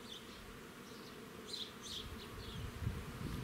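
Buckfast honey bees buzz faintly at an apiary in short overlapping bursts over a low, steady background hum, quiet and somewhat distant.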